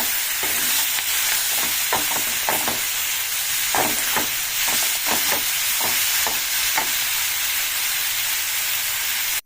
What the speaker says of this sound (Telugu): ఇప్పుడు ఇది మగ్గుతుంది.